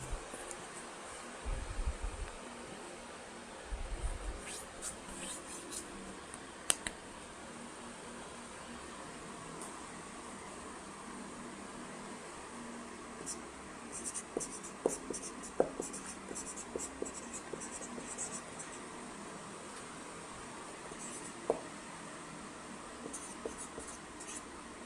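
Chalk or marker scratches a sentence onto a board in short bursts of strokes and taps, faint against a steady room hum, with a voice speaking at times.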